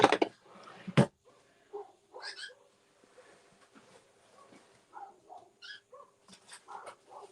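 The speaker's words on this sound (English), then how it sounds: "there's a lot of dogs barking outside my house" Dogs bark and yip intermittently outside a house, mostly faint and distant, with a few louder bursts early on and scattered short yelps throughout.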